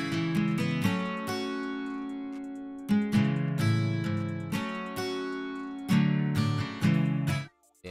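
A simple chord progression played in FL Studio: sustained, layered chords change every second or two in a repeating loop, loud and without talk, and cut off abruptly at the end.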